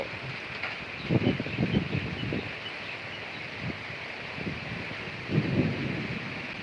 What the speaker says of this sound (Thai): นี่ก็เป็นฝนสามฝนสี่แล้ว ฝนตกแล้ว